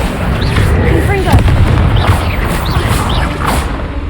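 Confringo blast spells exploding in Hogwarts Legacy, a loud run of booming bursts about every half second, each topped with a bright crackling zing, over continuous rumble.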